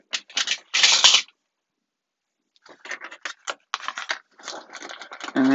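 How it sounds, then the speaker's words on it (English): Solid metal cubes from a Red Rising collector's edition board game clack and rattle as they are handled, in two bursts of close clicking separated by a quiet gap. "it's heavy because these are actually solid. Oh my goodness, the sound of that. Solid metal cubes."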